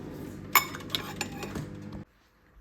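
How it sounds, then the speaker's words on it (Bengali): A spoon taken out from among dishes in a home kitchen, a few close metallic clinks and rattles of cutlery against crockery, then quiet. "এখান থেকে চামচ বের করি"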